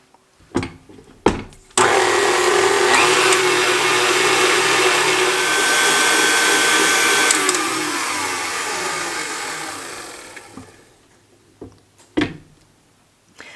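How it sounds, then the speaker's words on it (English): An electric mixer beats egg yolks for a sponge cake, starting with a few short bursts, then running loud and steady for several seconds before winding down, followed by a couple more brief pulses. "So I let the egg yolks beat for about 4 to 5 minutes till they're kind of full"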